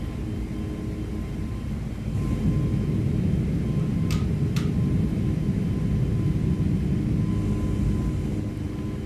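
Airbus A320neo engines in the X-Plane 12 flight simulator drone steadily, a loud, continuous low roar that swells slightly after two seconds and holds, with two short high clicks midway.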